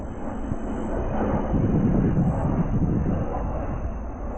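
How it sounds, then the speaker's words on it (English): A large military aircraft passes low overhead above a remote cypress swamp in southern Florida. It gives a loud, steady, broadband engine roar that swells slightly in the middle, with no voices. "it's a pretty big military aircraft."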